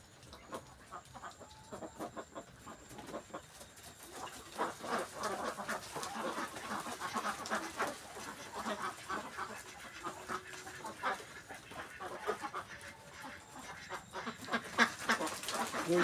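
Ducks on a duck farm give repeated quacks and clucking calls, some near and some farther off, forming a steady, moderately quiet chorus with no talking.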